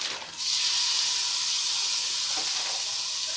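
Ground beef dropped into a pot of sweated vegetables for lasagna soup, bursting into a loud, close, continuous hiss of sizzling that holds steady after a brief quieter start.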